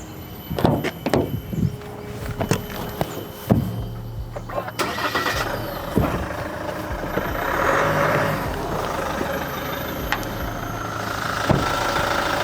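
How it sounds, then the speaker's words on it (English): Diesel engine of a Peugeot LandTrek pickup truck starts up and settles into a coarse, unrefined clatter, preceded by door thuds and clunks; the idle runs loud and steady at close range with no talk. "That diesel clutter sounds like it's from the 90s."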